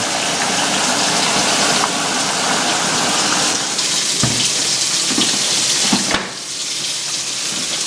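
Water gushes steadily into a Whirlpool, Maytag or Bosch washing machine's dispenser, flushing detergent through in a loud, continuous rush close up, with a couple of brief clunks near the end.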